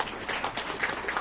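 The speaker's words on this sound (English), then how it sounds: "Please, round of applause for Ian." Audience applause for a speaker at an investment management market insights event, a steady wash of clapping at moderate level throughout the short stretch.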